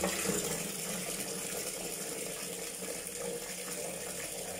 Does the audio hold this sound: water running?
yes